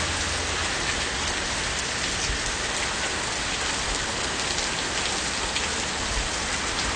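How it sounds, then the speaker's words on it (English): Heavy rain pours down steadily, a dense, continuous hiss with no letup and no voices. "it's raining hard. Oh, I know, I can hear it. I can hear it coming down."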